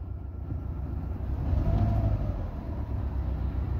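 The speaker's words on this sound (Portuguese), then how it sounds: "esse aí é um barulho, ó, característico de carro falhando um cilindro" A 2011 Chevrolet Voyage car engine idles with one cylinder misfiring, a close, steady low rumble with an uneven, lumpy pulse.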